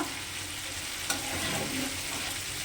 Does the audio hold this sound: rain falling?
no